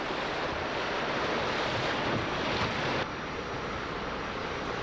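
High-water rapids on Sugar Creek, Indiana, a popular canoeing stream, roar as a dense, steady rush of churning water that fills the scene without pause, loud and close with no voices.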